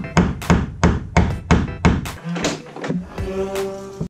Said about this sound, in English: I'm tapping it to make a mark on the inside of the trunk.